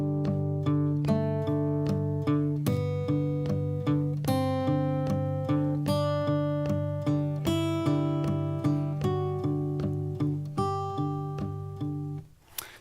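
Fingerstyle guitar picks out a major scale melody over a steady boom chick bass, notes plucked in an even, up-tempo rhythm that rings close and clear for most of the passage before stopping near the end.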